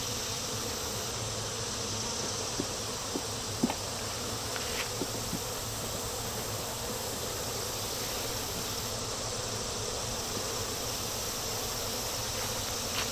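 Honeybees buzz around an open hive full of brood and incoming pollen, a steady continuous drone with occasional closer passes, moderately faint and with no talking.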